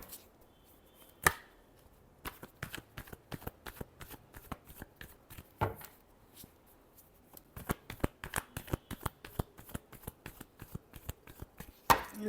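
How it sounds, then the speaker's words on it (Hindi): A deck of tarot cards is shuffled by hand in close, repeated bouts of quick papery riffles and snaps, with short pauses between bursts. "Last shuffle."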